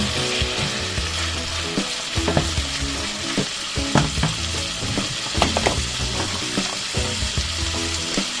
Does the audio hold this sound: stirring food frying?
yes